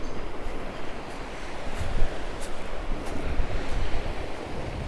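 Sea surf washing onto the shore at Manavgat beach, a steady broadband roar with rolling swells and wind buffeting the microphone, fairly close and continuous, no voices.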